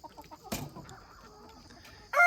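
Farmyard rooster chasing a reluctant hen among other chickens in the morning: a short burst of squawking clucks, brief and fairly close, then a sudden loud squawk at the end.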